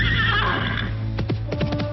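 A horse in a video game gives a loud, close whinny, followed by a quick run of snorting, fluttering breaths.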